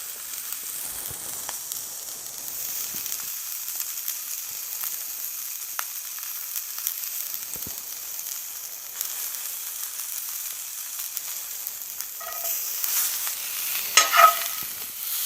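A steak sizzles steadily in a hot pan, with its fat edges caramelizing; the frying hiss runs continuously throughout with small crackles and pops, swelling briefly louder near the end, and no one speaks.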